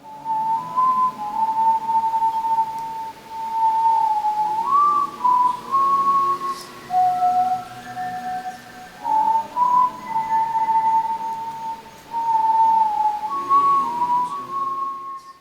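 A clear whistled melody carries a slow, wandering tune in phrases with short breaths between them, prominent and solo over a quiet background.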